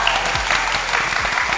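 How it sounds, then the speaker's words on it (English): Audience applause, a dense burst of clapping from a crowd at an event in Florida, loud and sustained through the whole short moment. "So let's clap it up for Danny Frustrate and Javi."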